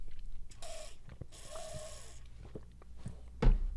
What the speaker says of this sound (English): Montoya snores.